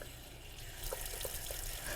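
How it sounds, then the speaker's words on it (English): Cold water running from a kitchen tap while collard greens are being prepared, a steady broadband hiss and splash with a few brief droplet plinks and no talk. "So return to the cold water and we'll let that run."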